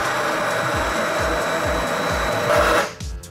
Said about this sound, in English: I'm just going to grab my hand wand and just give it a couple pulses